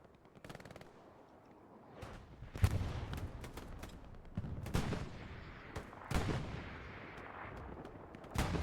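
Grenade blasts and rapid gunfire fill a video game match on a Utah Beach map, with distant booms and crackling machine-gun bursts arriving in irregular clusters, fairly faint overall with a few sharper, louder detonations.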